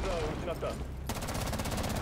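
Burst of rapid gunfire in a first-person shooter game, loud and close, as a window is shot out, following a stretch of Spanish-speaking talk.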